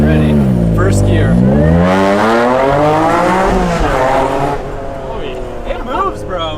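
Car accelerating hard in first gear, engine revving loud and close with rising pitch, then easing off as excited voices talk over it.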